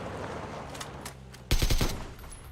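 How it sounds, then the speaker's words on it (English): Silenced AK rifle fire in PUBG, a short loud burst of several rapid suppressed shots close by, following a stretch of quieter game ambience. "the sound of the silenced AK"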